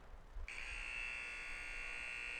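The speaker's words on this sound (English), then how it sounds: "And there is the final buzzer." After a brief rumble, a loud, sustained electronic buzzer blares and holds steadily without pause, the final buzzer at a hockey game.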